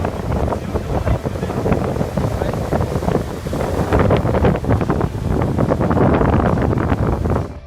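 Ocean waves roll and crash along the Charleston, South Carolina coast under heavy, loud wind buffeting the microphone, a continuous dense roar for several seconds with no clear voices.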